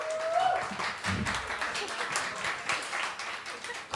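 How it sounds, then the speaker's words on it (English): A crowd applauding with sustained clapping, moderately loud, with voices mixed in around the clapping. "Round of applause."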